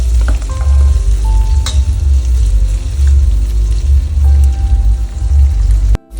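Curry leaves and chillies stir-fried in hot oil for Nagpur-style tarri poha: a loud, close, continuous sizzle with occasional light clinks from stirring, ending abruptly.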